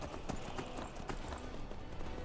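A horse's hooves clip-clop in Skyrim: a steady rhythm of hoof beats against a dense, constant game soundscape, moderately loud with no talking.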